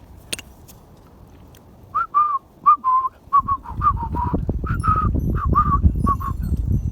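A voice imitates a whistled TV commercial jingle with a string of short, bright hummed or whistle-like notes in a bouncing rhythm, close and clear, joined partway through by a low rumbling background.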